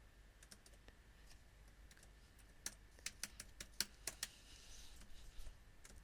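Someone types on a computer keyboard, a sparse run of faint clicks that quickens into a burst of sharper keystrokes before trailing off.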